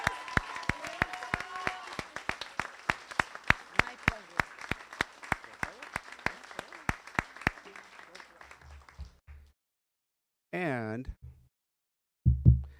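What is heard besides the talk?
audience applause for Esther at awards ceremony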